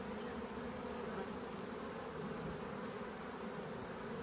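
Honey bees buzz in a steady, dense drone across a hive frame during a Demaree split, a continuous close swarm hum with no talk.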